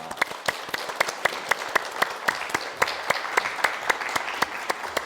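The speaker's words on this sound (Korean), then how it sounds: "박수 부탁드립니다" A small crowd claps steadily for several seconds, with individual hand claps standing out crisply over the continuous applause.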